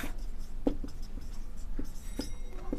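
Marker or chalk strokes on a board during an English grammar lesson, soft intermittent scratches and taps in a quiet room, faint and close.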